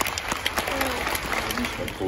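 Audience clapping at an evening event in France, a fairly close, busy patter of hands with scattered voices and brief calls mixed in, short and moderately loud.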